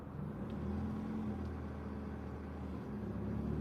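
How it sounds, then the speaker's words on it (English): Distant road traffic beyond a hedge at night, a continuous low rumble of passing cars with a gentle swell, steady and unbroken. "I can hear traffic"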